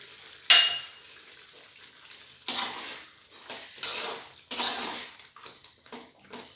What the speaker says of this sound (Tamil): இதை நல்லா கிண்டி விட்டுட்டு அப்புறம் முந்திரி பருப்பு எல்லாத்தையும் போட்டு இறக்கிற வேண்டியதான்